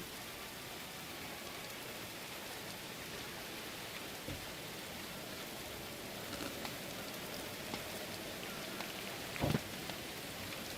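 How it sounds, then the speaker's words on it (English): Steady thunderstorm rain in the medieval colony-building game Going Medieval, a dense even hiss of falling rain throughout with a brief louder patter or crack near the end, no voices. "Man, a thunderstorm."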